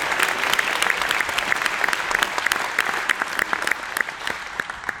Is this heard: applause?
yes